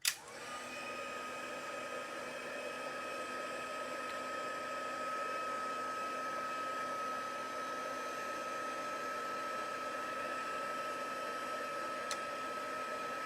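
A heat tool blows hot air onto embossed paper in a craft demonstration, giving a steady whirring fan hum with airy hiss that starts abruptly and runs continuously and close-up, with no talking.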